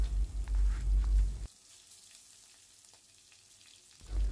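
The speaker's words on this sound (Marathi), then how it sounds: "आता हे वाटण आपण तेलामध्ये चांगलं परतवून घ्यायचं आहे।" A ground spice paste with curry leaves fries in oil in a pan, making a quiet sizzle. A louder clatter of stirring or handling sounds at the start and end.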